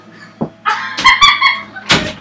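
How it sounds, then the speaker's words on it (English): Door creaking open and shut in Assassin's Creed 2, a short knock followed by a drawn-out squeaky, tonal creak and a final dull thud, close and clear with no talk. "Door squeak."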